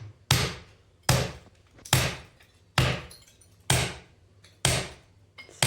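Heavy hammer blows strike while old tiles are being removed in a renovation of an old house. Seven loud, evenly spaced single hits land about one per second, each followed by a short ringing decay.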